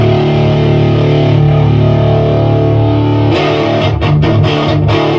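Loud, sustained distorted electric guitar runs through a 1970s Roland Phase II AP-2 phaser, holding a dense chord before choppy, rhythmic strums take over near the end.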